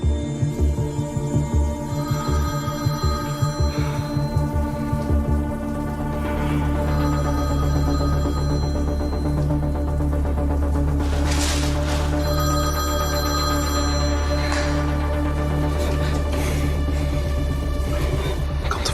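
A telephone rings repeatedly in steady, regular bursts, the ring tone sustained and fairly loud over a low electrical hum, with no voices heard.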